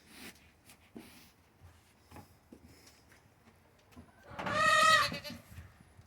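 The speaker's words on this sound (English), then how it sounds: "Got a couple goats." A goat bleats loudly and close by for about a second, a wavering nasal cry, after quieter rustling and scattered farmyard noises.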